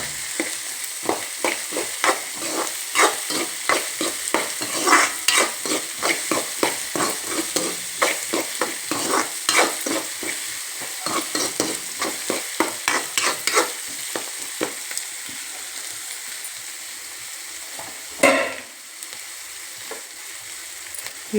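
Onions turned by hand in hot oil for uppittu, steady sizzling with a continuous stream of short scraping stirs, close and fairly loud throughout.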